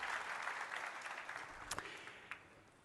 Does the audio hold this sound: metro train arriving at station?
no